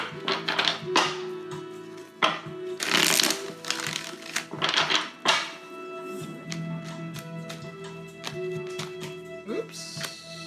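Oracle cards being shuffled and handled on a table, with bursts of riffling and tapping thunks in irregular clusters, close and clear, while a voice speaks intermittently between them.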